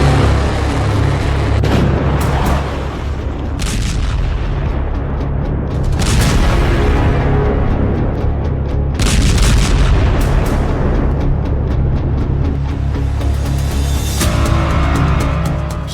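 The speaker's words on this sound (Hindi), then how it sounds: "ये ऐसा वॉर जोन है जहां बारूदी प्रहार रुकने का नाम नहीं ले रहा" Bombs explode in a war zone: heavy blasts boom one after another over a dense, continuous rumble. The sound is loud and unbroken throughout.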